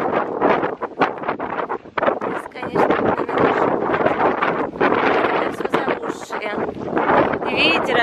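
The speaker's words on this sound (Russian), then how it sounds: "Много не снимаю, потому что ветер сумасшедший." Strong wind roars through a village in Russia, buffeting the microphone with loud, continuous rumbling gusts that barely let up.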